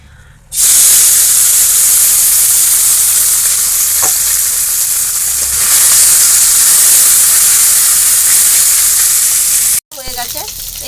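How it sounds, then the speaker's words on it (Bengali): Small river fish frying in hot oil in a wok over a quick-cooking stove, a loud steady hiss and sizzle that bursts in abruptly and holds for about nine seconds before a brief cut. "মাছগুলো ভেজে নেবো"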